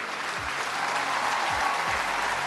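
Crowd applause rings out steadily after a pick in a football video game draft, a dense, continuous clapping wash with a few faint low tones underneath.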